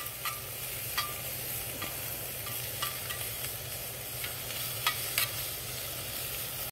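Corn cooks over a campfire at a state park campsite, a steady soft sizzle and crackle under a constant low hiss, with a few faint pops and ticks scattered throughout.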